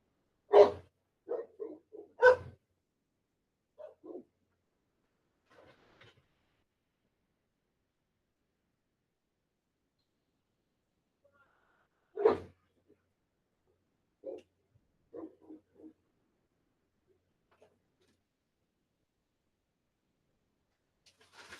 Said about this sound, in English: All my dogs are freaking going psycho out there.